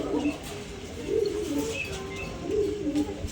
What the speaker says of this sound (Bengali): মাশাল্লাহ এক জোড়া রামপুরি কবুতর